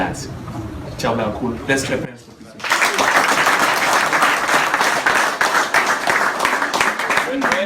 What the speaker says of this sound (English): let's clap hands for Pito